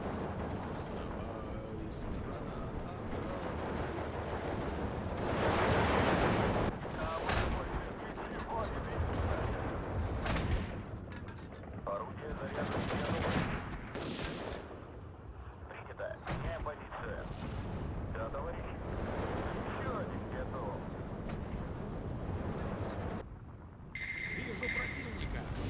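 Mortar and artillery fire in the WW2 real-time strategy game Steel Division 2 rumbles through a steady dense battle bed, with repeated heavy booms and gunfire bursts throughout, while a person talks over it.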